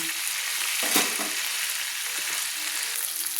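Spice paste fries in hot oil for a Bengali fish curry with potato and eggplant, giving a steady, loud, close hiss of sizzling with a brief stirring scrape.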